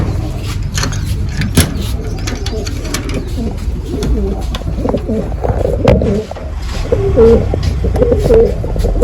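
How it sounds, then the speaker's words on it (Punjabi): Pigeons coo softly amid a steady rumble of background noise, with low repeated coos rising toward the end. "ਚਿੱਟੀਆਂ ਦੇ ਵੱਡੇ ਕਬੂਤਰ ਵੇਖੋ"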